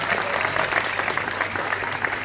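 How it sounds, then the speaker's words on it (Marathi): An audience applauds at a celebration for a director's film on a houseful day, dense steady clapping throughout. "सो जोरात टाळ्या होऊ द्यात"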